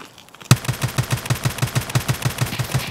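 Heavy automatic gunfire in Escape from Tarkov breaks out suddenly after a quiet moment, a loud rapid, evenly spaced stream of close shots that rattles on without a break.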